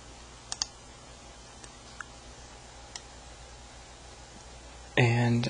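A computer mouse gives several sharp, isolated clicks at irregular intervals in a quiet room, followed by a sudden louder burst of sound at the end.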